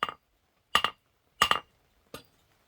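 Hot metal candle holder hammered on an anvil, four sharp ringing strikes spaced evenly and close by, each followed by silence.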